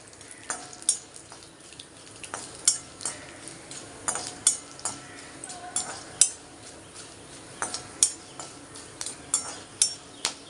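Peanuts, curry leaves, urad dal and chana dal fry in a pan, a soft sizzle beneath repeated sharp scrapes and clinks of a spoon stirring against the metal at an irregular rhythm, close up.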